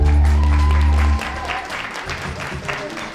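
An audience applauds at a charity talent show final, the clapping continuing at a moderate level alongside loud music that fades out after the first second.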